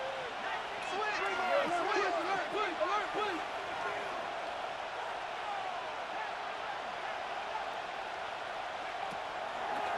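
A steady crowd roar fills a stadium in the Madden NFL 26 football game, with an announcer talking over it.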